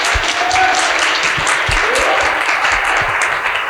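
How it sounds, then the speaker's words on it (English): A dinner audience applauds in a dense, steady burst of many hands clapping, loud and close, holding evenly throughout with no talk over it. "We can give him a round of applause first, y'all."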